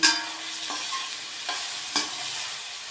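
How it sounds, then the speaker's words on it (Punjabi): Onions roast in a pan, giving a continuous close sizzle that is broken by a few distinct scraping stir strokes at intervals, with no speech. "ਪਿਆਜ਼ਾਂ ਨੂੰ ਆਪਾਂ ਭੁੰਨਾਂਗੇ"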